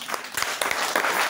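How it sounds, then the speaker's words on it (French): A church congregation applauds loudly in a short, dense burst of clapping that fills the room. "Acclame très très fort."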